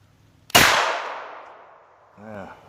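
A single sharp carbine shot from a Kel-Tec Sub-2000 cracks loudly, then its echo decays over about a second and a half, followed by a short voice.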